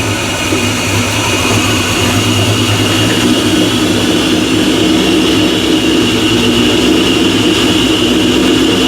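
A 2004 Mustang Cobra Terminator engine fitted with a 2.3L Whipple supercharger runs at a loud, steady idle, with a constant deep drone and a high whine throughout.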